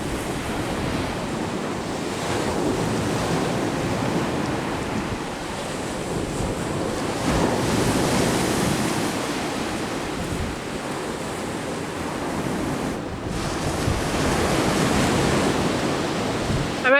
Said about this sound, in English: I love watching the waves hitting rocks and splashing up